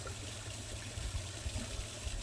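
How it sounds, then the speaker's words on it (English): Water running from a hose into a koi pond filter at its overflow, a steady low gushing trickle, fairly faint and continuous with no talk. "I've got some water going in"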